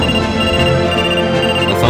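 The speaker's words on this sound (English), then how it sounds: "A phone call?" A phone rings in the Trauma Center video game, a steady electronic ringtone with sustained tonal layers, loud and continuous throughout with no talking.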